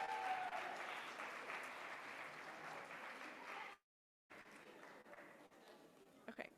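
Applause from a conference audience greets the education department directors, starting fairly full and thinning out, then breaking off in a short silence before quieter clapping returns.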